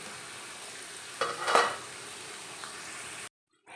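Chicken frying in a pan, steady close hiss of sizzling oil with a brief louder burst of crackle midway, then sudden silence.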